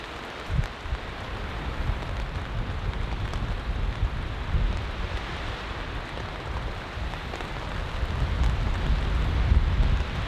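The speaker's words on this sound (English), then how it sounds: "As far as the rain goes, it continues to be very light." Light rain patters on a tent during a storm, a steady hiss of drops mixed with gusting wind buffeting the microphone, growing slightly heavier toward the end.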